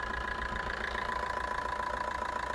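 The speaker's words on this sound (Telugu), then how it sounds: "ఇంజన్ బీటింగ్ చాలా బాగుంది" A Maruti Suzuki Swift VDi diesel engine in good condition idles steadily up close, a constant rumbling knock with a faint whine on top.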